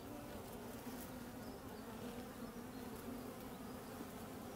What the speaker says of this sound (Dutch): Hoeveel bijen daarin zitten?